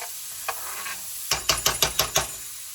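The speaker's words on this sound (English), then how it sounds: "I'm sauteing garlic, onion, celery, and carrots down" Ground beef sautéing in a pan with garlic, onion, celery and carrots: a low steady sizzle, then a quick run of about six sharp stirring scrapes and clatters close by, with no talking.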